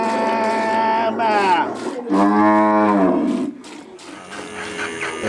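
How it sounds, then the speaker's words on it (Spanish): Cattle on the Colombian-Venezuelan plains answer a milker's work song with two long, loud, close moos, the second deep and drawn out, followed by quieter sounds. "La vaca bramaba al nombrarla a ella y el becerro también le berriaba"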